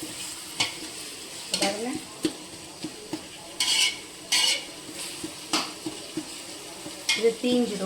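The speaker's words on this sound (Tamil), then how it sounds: "இது தீஞ்சிடும், அதனால் ரொம்ப கவனமாக கிளறி விட்டுக்கிட்டே இருக்கணும்." Ginger garlic paste sizzling in a pot for chicken biryani while a metal spoon stirs and scrapes against the pot, producing bursts of hissing and clinks over a low, steady fry.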